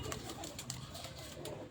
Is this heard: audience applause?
no